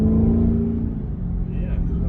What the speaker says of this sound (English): So there's that exhaust note, right?